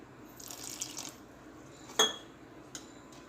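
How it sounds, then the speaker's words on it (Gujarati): Water poured into thick dhokla batter made with curd and oil in a bowl, a soft brief splashing trickle followed by a single sharp clink of a spoon against the vessel, close and fairly quiet. "થોડું પાણી એડ કરીશું"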